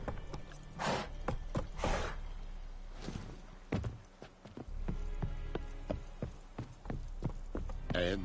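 Horse hooves clip-clopping from Roach, Geralt's horse in The Witcher 3, a steady walking rhythm of close hoof strikes with a few louder thuds over a low background.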